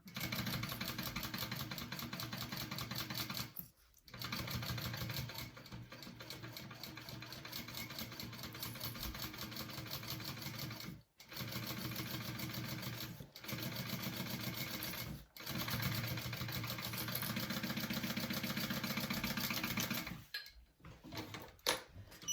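Sewing machine stitching a half-inch seam, a steady close mechanical whirr with rapid needle rhythm running continuously, broken by several brief pauses and ending in short stop-start bursts.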